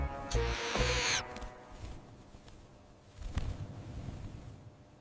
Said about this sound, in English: The baby owls sit in the barn.